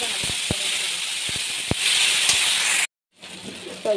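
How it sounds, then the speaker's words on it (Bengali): Chopped tomatoes hit hot oil with fried onions in a pan, giving a steady broad sizzle with a few sharp clicks and pops, briefly cutting out near the end before the frying hiss returns. "এখানে আমি এখন কেটে রাখা টমেটো দিয়ে দিচ্ছি"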